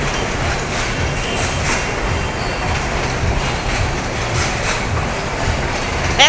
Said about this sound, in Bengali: এখন গেল Dhaka two Chittagong container, Dhaka Kamalapur station থেকে ছেড়ে যাচ্ছে।